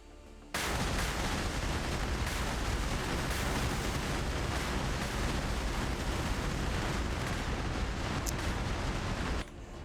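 Cluster munitions dropped from an A-10 attack jet in a video game burst across the ground as a sustained, loud roar of dense rumbling blasts and crackling detonations lasting several seconds, with no talking.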